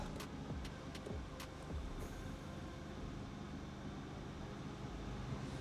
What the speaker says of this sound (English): it's going to get very noisy because this car is noisy